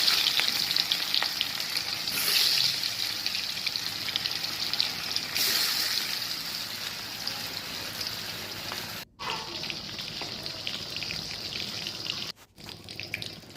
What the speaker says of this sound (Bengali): সেই ম্যারিনেট করে রাখা কোরাল মাছগুলো আমি ভেজে নিচ্ছি।